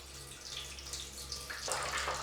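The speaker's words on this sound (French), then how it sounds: "vous avez juste besoin d'appuyer sur le petit robinet ici et de récupérer l'eau qu'il y a à l'intérieur" Water drains from the small tap of a canning sterilizer after pasteurizing jars, a steady trickle with a brighter, fuller rush of flow toward the end, heard up close with no talk.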